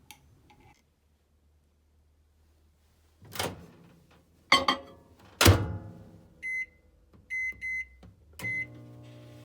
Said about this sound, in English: So you're gonna microwave it for 1 minute and 45 seconds on high in your microwave